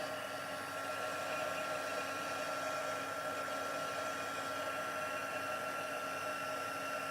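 A heat tool blows a steady, even whoosh while melting embossing powder for a Halloween treat box, the airflow close and constant throughout with no speech.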